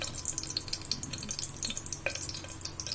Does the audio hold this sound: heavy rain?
no